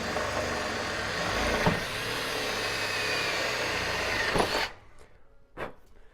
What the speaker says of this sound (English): I got my 6mm drill bit.